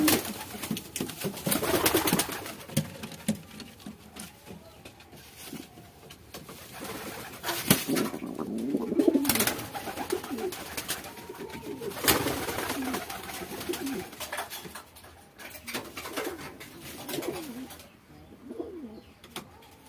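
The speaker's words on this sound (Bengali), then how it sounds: "দেখো বন্ধুরা পায়রা" Pet pigeons coo softly and repeatedly in low, throaty bursts, close by and rising and falling in loudness over a quiet background, with occasional faint bird chirps.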